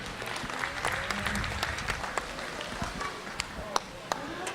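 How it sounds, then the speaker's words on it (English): Audience at a county fair 4-H/FFA market steer show claps for the youth exhibitors, steady scattered applause with a few sharper individual claps standing out, fairly distant in a large venue. "Let's give them a round of applause."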